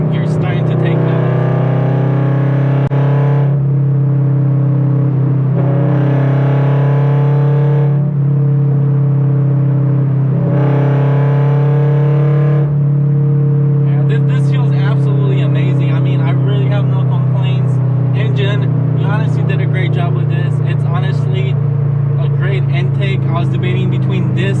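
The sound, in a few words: car accelerating in fifth gear with an aftermarket intake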